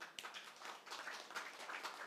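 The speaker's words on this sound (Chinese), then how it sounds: "掌声邀请波叔" An audience breaks into dense, steady applause at a stage event, welcoming Uncle Bo, a veteran with more than forty years in the industry. The clapping is close and continuous for about two seconds.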